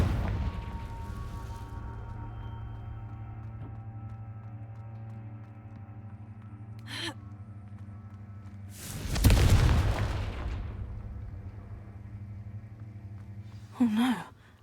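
Confringo blasting spell in Hogwarts Legacy erupts in a loud, broad explosive boom with a rumbling tail, over a low sustained musical drone, with shorter magical bursts before and after.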